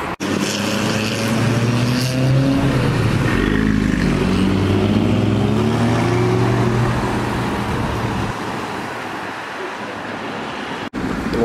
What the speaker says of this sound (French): Alors ici on a la Aston qui part.